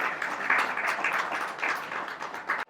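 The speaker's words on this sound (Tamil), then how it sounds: "மறுபடியும் ஒரு கைத்தட்டலை நம்ம வந்து கொடுக்கணும்" Applause from an audience at a Tamil community anniversary celebration in Hyderabad, a steady wash of many hands clapping for about three seconds at moderate loudness, fading out abruptly at the end.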